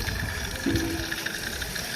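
Water pouring into a tank in a village setting, a continuous splashing gush with a brief tonal gurgle partway through, close and moderately loud, with no voices.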